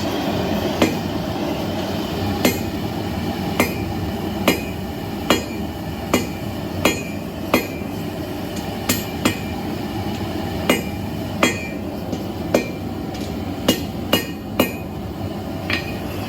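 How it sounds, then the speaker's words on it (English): Hot steel taper hammered on the sharp part of an anvil in a blacksmith forge, with roughly twenty bright metallic clanks at a steady, slightly irregular pace over a continuous low rumble of the fire. "we come over to our anvil here, to the sharp part of the anvil, and we want to make sure we hit it like this"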